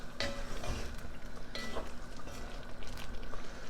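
Butter, white wine and lemon juice bubble and sizzle steadily in a hot pan while being stirred, with occasional soft scrapes and clinks of a utensil against the pan, close and continuous.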